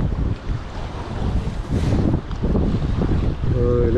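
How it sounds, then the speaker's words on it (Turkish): Strong wind buffets the microphone during line fishing from a boat on the Bosphorus near Beylerbeyi, a loud continuous roar with gusts, water and boat noise beneath, and a brief tonal squeak near the end. "Ciddi bir rüzgar var."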